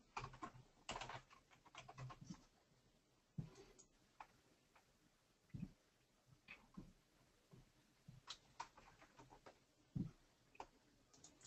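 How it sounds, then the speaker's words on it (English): Faint, sparse keystrokes on a computer keyboard enter a login name and password for a SQL Server database, with irregular clicks separated by short pauses. "by typing the login name and its password."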